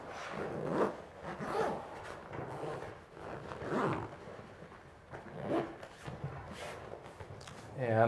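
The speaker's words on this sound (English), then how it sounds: "Zip this up." A zipper is drawn along the zippered cover of an AERIS Jetpack dive day pack in a series of rasping pulls, close and clear, while someone talks over it.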